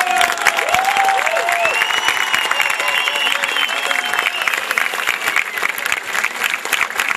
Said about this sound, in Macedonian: еденминутен, громогласен, рок-н-ролски аплауз